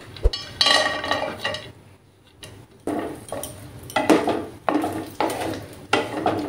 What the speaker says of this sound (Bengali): কাজু আর কিশমিশগুলো ভেজে নেব